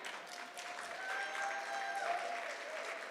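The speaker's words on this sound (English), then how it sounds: "let's give a big round of applause for Mr." Applause from an audience at a benefit gala showcase, a steady wash of many hands clapping for about three seconds, fairly distant and even, with faint tonal sounds running underneath.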